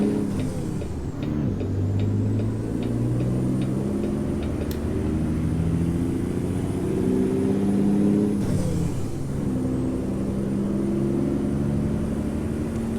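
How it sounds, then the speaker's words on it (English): A video game truck's Caterpillar engine in American Truck Simulator drones steadily and loud, its pitch rising through gears, dropping at a shift, then climbing again, with faint ticking over it. "I do love how this engine sounds."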